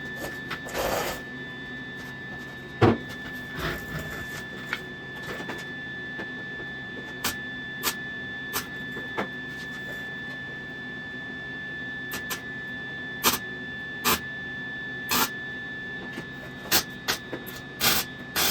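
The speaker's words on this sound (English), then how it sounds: "now I have to go and weld there from underneath" Underside welding on the wheel well flange of a 1966 Triumph GT6: a series of brief, crackling tack-weld bursts with pauses between them, over a steady low hum, with no talking.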